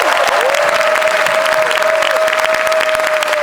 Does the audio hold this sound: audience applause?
yes